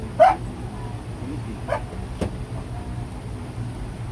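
A dog gives a sharp, close bark, then a couple of softer yips and a thump follow against a low background rumble.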